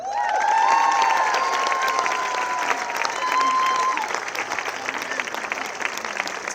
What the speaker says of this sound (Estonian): Ja ma tahaks veel ühe suure aplausi teha ühele mehele